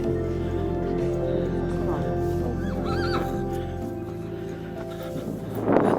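A horse on a high mountain trail in Peru whinnies with a wavering, high-pitched neigh partway through, over a low steady background rumble and faint voices.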